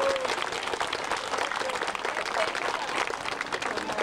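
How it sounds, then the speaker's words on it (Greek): Steady applause from an audience in the Greek parliament during a Schengen protest, dense clapping continuing throughout at a fairly even level with faint voices mixed in. "ένα χειροκρότημα"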